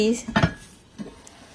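Pork ribs stir-fried in a pan for a simple Lao dish, heard as a few scraping clatters of a utensil against the pan, fairly quiet, with no voices.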